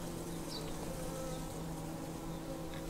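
Honeybees buzz steadily and closely around a shallow syrup feeder at an apiary in autumn, a dense continuous drone of many insects with no talking.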